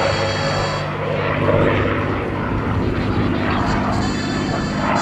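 A P-51D Mustang's engine and propeller drone steadily and loudly throughout at an airshow, a dense continuous roar with a strong low rumble, heard up close from the cockpit with no pauses.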